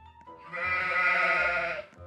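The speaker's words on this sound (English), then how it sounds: "that's what the sheep sound like" A single drawn-out sheep bleat from a Roblox video game, clear and fairly close, wavering for about a second and a half with nothing else around it.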